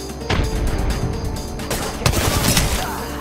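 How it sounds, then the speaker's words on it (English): Wingman pistol shots in a first-person shooter video game, loud and close, with a few sharp bangs over dense rumbling game noise. "She hit me with three shots. Yeah, wingman."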